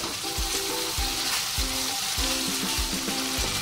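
Four or five slit green chillies fry in a pan as a steady close sizzle, with a few brief clicks and knocks sounding on top of the constant hiss.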